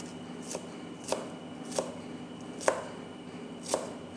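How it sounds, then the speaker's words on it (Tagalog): A knife chops onion and garlic on a board in a kitchen, five distinct evenly spaced thuds about a second apart, close and moderately loud over a faint steady background hum. "Ngayon po ay maghihiwa po ako ng onion at garlic."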